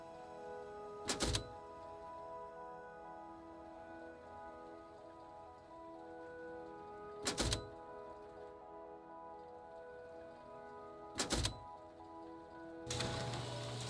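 Turrets being placed in the survival video game Rust: a few heavy, sharp thunks spaced several seconds apart over a soft, constant rain-like ambience, with no talking.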